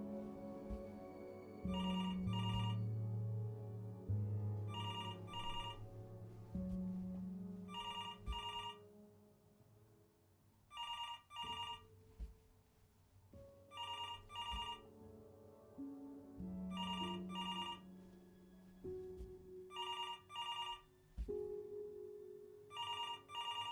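An old-style telephone bell rings in the video game Before Your Eyes, sounding in repeated double bursts spaced a few seconds apart over a soft, sustained musical score, with no voices.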